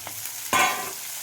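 Prawns hitting a pan over a low gas flame, a brief soft hiss followed by a sudden louder sizzle burst that fades over under a second, close and with no voices.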